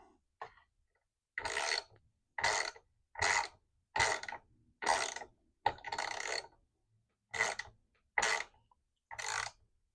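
A hand ratchet with a socket tightens a bolt on mid-century modern dresser legs, giving about nine short, evenly spaced bursts of clicking with brief silences between strokes, close and clear with no talking.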